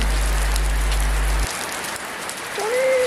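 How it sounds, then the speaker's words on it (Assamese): Heavy rain falls outside, a steady dense hiss heard from indoors, with a low hum in the first half and a faint rising tone near the end. "এইটো চাওক বাহিৰত বুম ধামাকা বৰষুণ দি আছে।"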